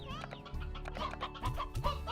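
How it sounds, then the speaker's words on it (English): Chickens in the video game Slime Rancher cluck in short, uneven bursts close by, a handful of calls over a steady low game background, with no speech. "I don't think you need to feed the chickens. I think they take care of themselves."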